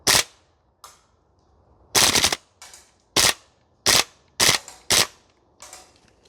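An Archwick APC9K Pro gas blowback airsoft gun fires in short, loud, uneven full-auto bursts on a range, some sharp and punchy, others weaker, separated by brief gaps.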